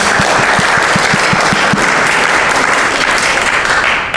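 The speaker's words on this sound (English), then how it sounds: "Another round of applause is appropriate for this." A church congregation applauds during a Sunday service, a dense, loud, sustained wash of many hands clapping that fills the room for the whole stretch without pause.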